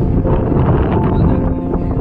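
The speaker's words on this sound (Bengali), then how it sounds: "বাট প্রচন্ড পরিমাণে বাতাস হচ্ছে।" Strong wind roars and buffets the microphone on a boat trip at Kanyakumari, a loud, continuous rushing that fills the whole moment with no voices heard.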